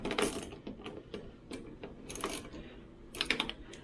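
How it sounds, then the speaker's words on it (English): A ratchet fitted with a 1/4-inch socket works on the long screws of a washing machine, giving quiet, close clicking bursts in quick irregular runs with short pauses between them. "we're going to take our ratchet with a 1/4-inch socket"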